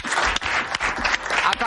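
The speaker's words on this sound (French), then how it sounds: "Je pense que ça mérite une bonne main d'applaudissements." A studio audience at a French-language game show bursts into brief, lively applause, the clapping pulsing in quick surges.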